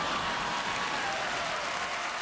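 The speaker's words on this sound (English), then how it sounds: "That joke, when it landed and the applause was so sustained" A television studio audience breaks into sustained applause after a joke. The clapping is dense and steady throughout, with no talking.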